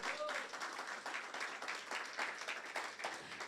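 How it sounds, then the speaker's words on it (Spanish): Congregation applauding in church after a sermon, dense sustained clapping from many hands across the room, steady and moderately loud throughout. "Dale un aplauso de gloria al Señor."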